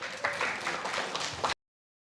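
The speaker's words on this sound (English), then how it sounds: "Let's clap for her" Audience applause at a dissemination meeting in Kilifi as a woman is welcomed to the stage; steady, moderately loud clapping from a group that stops abruptly after about a second and a half.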